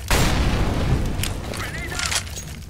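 A grenade explodes in the video game CS:GO with a sudden, loud, booming blast that rumbles heavily in the low end and decays over a couple of seconds, while players' voices break in over the tail.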